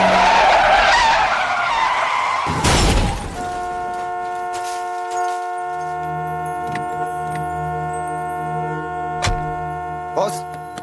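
A speeding car brakes hard to avoid a collision, its tires screeching loudly and close for a couple of seconds before a sharp stop, followed by a steady sustained tone in the background.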